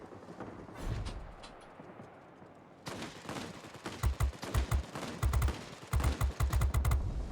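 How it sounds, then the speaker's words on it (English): Aircraft cannons fire in World of Warplanes, Japanese Navy Air Force planes in combat over an airfield, with bursts of sharp rapid shots breaking out after a quieter engine drone and repeating loudly in clusters. "Saw the cannons take effect there."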